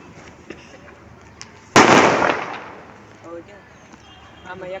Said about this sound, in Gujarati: દિવાળી પતી ગઈ છે ને તો ફટાકડા ફોડવી હતી